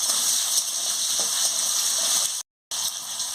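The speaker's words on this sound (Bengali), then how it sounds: "নুনটা দিয়ে দিচ্ছি, দিয়ে ভালো করে ভেজে নিচ্ছি।" Pumpkin stalks and potatoes with salt sizzle steadily in a pan as a chorchori is cooked, a continuous close frying hiss with a brief dropout near the end.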